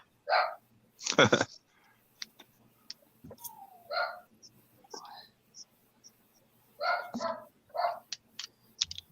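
Several sharp dog barks in bursts, close by, separated by pauses, with faint whispery voices in between.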